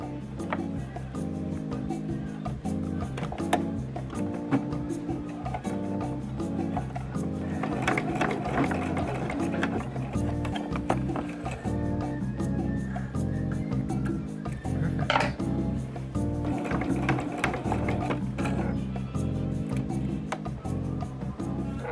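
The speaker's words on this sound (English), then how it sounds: "top stitch these corners because we had to rip them out in order to attach the collar onto Maggie's." Sewing machine top stitching the ripped-out collar corners of a garment, a steady close mechanical whir with a rhythmic needle chatter that runs without pause, no talking.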